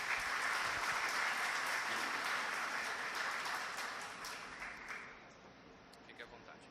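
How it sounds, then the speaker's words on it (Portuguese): An audience applauds an invited speaker from Lisbon's municipal economy and innovation office at a lecture in Bahia, with steady, dense clapping that holds for about four seconds before thinning out and dying away. "Uma salva de palmas"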